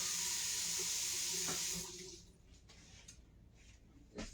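Water runs loudly from a kitchen sink tap as hands are rinsed under the stream, then the flow stops and a few faint splashes and drips follow.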